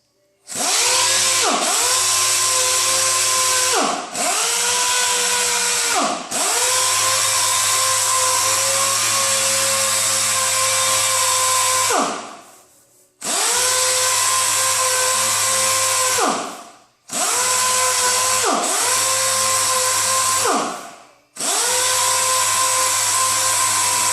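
A power sander with 400-grit paper buffs the headlight lens of a 2010 Mazda 6, a loud, steady high-pitched whine running in long bursts with brief pauses as the tool lifts off.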